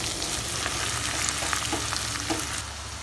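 Chopped tomato sautéing in a pan for prawn do pyaza, a loud, dense, continuous sizzle up close with faint stirring taps beneath it, easing slightly at the end.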